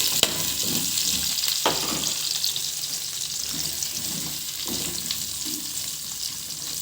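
Indian gooseberries and green chillies frying in oil, a steady close crackling sizzle with a few sharp pops and occasional stirring clatter, no talk.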